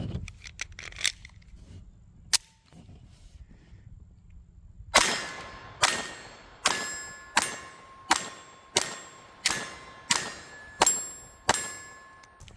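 A 9mm pistol fires at steel targets on an outdoor range: a few scattered shots, then a rapid string of about ten sharp cracks each followed by a ringing metallic clang.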